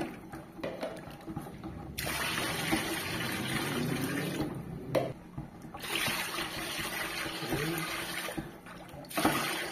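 Alcohol poured in liters into a homemade bar soap mixture made with floral bleach, giving a steady liquid pouring and splashing sound with brief pauses, close and moderately loud.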